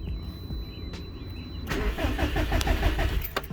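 A car with a dead cam position sensor cranks without catching: a quiet hum at first, then a close, steady rhythmic churning of the starter turning the engine over for about two seconds, with no talking.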